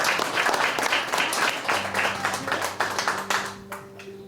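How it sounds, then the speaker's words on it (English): Pageant audience applauding the judges, a loud, dense clatter of many hands that gradually thins and fades toward the end as a soft tone of background music sets in underneath. "Let's give them a warm round of applause to thank them for the challenging job they've undertaken today."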